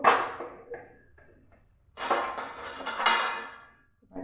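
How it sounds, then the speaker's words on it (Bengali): A fish and potato curry with onions is stirred in a pan, bursts of scraping and clinking from a utensil against the metal, separated by short quiet gaps, close and moderately loud with no talking. "ভালো করে আমি একটু নাড়িয়ে নিচ্ছি এভাবে এভাবে নাড়িয়ে নেবো"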